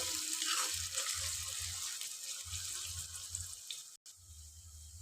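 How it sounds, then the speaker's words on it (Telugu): Thinly sliced onions frying in a pan make a soft, continuous sizzle with faint crackles, steady and fairly quiet, with a brief gap near the end. "ఇప్పుడు చూడండి ఆనియన్స్ అయితే ఇట్లా మంచిగా ఫ్రై అయినాయి"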